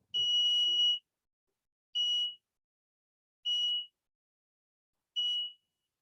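An electronic buzzer wired to a Raspberry Pi with an IR sensor beeps four times in even, spaced bursts, each a steady high-pitched tone lasting under a second, with silence between.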